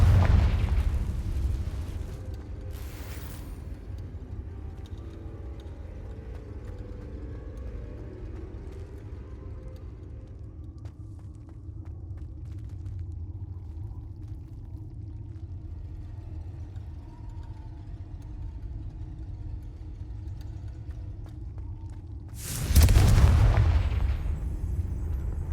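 Confringo blasting spells go off in Hogwarts Legacy, with a loud explosive boom at the start, a brief crack shortly after, a long stretch of low rumbling ambience, and another heavy blast near the end.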